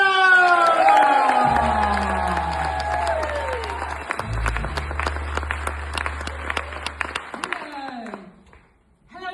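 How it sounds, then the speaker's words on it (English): A stage-welcome crowd at a community event bursts into sustained applause and cheering: dense clapping with whoops, strong at first and easing toward the end, over a low steady hum. "Big round of applause, everyone"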